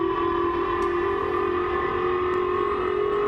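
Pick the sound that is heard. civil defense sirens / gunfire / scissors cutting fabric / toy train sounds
civil defense sirens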